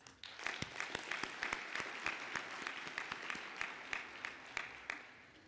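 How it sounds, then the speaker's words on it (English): Applause at a graduation ceremony: scattered hands clap in a thin, sparse patter, individual claps clearly separate and fairly distant, carrying on quietly for several seconds. "You deserve a big round of applause."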